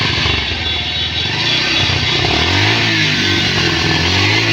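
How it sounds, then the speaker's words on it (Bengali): A motorcycle at a bike market is started and runs steadily, a loud close engine drone with a rhythmic low putter that rises and wavers slightly in pitch. "ভাই একটু বাইকটা একটু চালু করেন দেখি তো সাউন্ডটা কীরকম"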